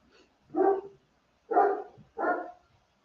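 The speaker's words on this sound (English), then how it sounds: "When my husband gets home, Higgins has to lose his mind and bark." Higgins the dog barks three times at home in the evening, loud close woofs spaced about a second apart with quiet gaps between.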